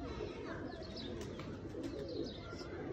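A few pigeons coo softly in low, murmuring calls amid faint outdoor background noise, with light chirps mixed in.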